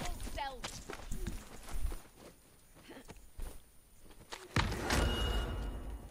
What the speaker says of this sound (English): Thought I just heard footsteps.